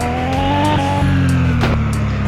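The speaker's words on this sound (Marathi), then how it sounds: "ड्रिफ्ट मारती गाईज ही गाडी." A car drifts in the mobile game Car Parking Multiplayer, a loud, steady engine drone with sustained tire squeal sliding across the whole short stretch, no voices.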